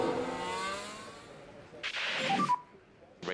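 A Formula 1 race car in a racing video game revs its engine, a buzzing drone that fades, then sharp bursts of revving break in twice, fairly quiet overall.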